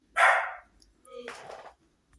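A dog gives two barks, a loud sharp one and then a slightly softer, rougher one, fairly close, with silence between and around them.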